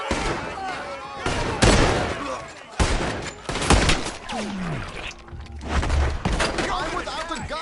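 Gunfire in the Western video game Red Dead Redemption 2, a loud fusillade of close gunshots and booms in rapid irregular bursts, with shouting voices mixed in throughout.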